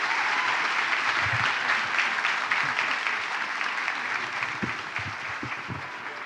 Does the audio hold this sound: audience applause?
yes